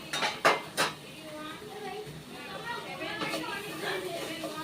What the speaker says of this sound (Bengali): 2 মিনিট পর ঢাকাটা খুলছি।